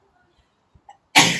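A single sharp sneeze in a quiet room during a restorative yoga class, sudden and loud after near silence, with a few faint breaths just before it.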